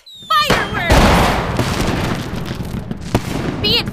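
Fireworks go off in the Free Fire video game during a New Year celebration event: a rapid crackling barrage of bursts and booms, loud and close, with whistling launches at the start and end.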